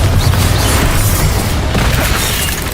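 Bombarda explosion spell in Hogwarts Legacy, a heavy booming blast with crashing debris rolling into a dense, sustained rumble of combat noise that stays loud for nearly three seconds.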